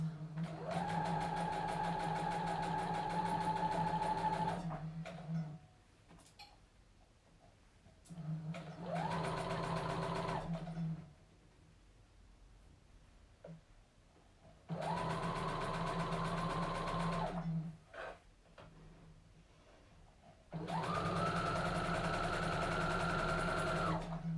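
A sewing machine stitches a dress sleeve in four steady runs of roughly four to five seconds each, separated by brief quiet pauses, its motor whirring up to speed at the start of each burst.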